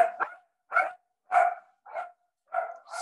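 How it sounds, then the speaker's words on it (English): Dogs barking indoors, five or six sharp barks in an uneven series with short silent gaps, moderately close and clear, with no talk over them. "Excuse my dogs."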